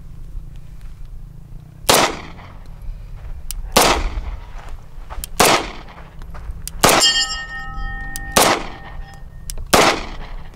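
A Wilson Combat Beretta 92 pistol fires six sharp, loud shots spaced a second or two apart outdoors, one followed by a brief metallic ringing.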